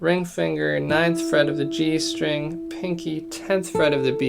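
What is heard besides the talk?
None of the usual background noises is heard.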